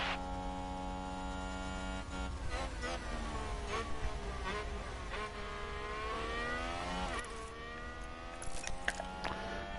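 Formula 1 race cars in F1 Manager 22 scream down the main straight, with high engine whines rising and falling in pitch as they pass. A steady hum runs underneath and nobody speaks.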